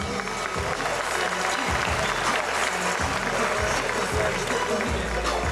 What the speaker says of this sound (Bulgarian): аплодисменти от вас